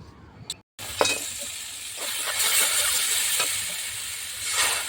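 Spice masala with tomatoes and turmeric stirred and fried in a pan, a steady sizzle with scraping stir strokes close by, a brief silent gap near the start, no talking.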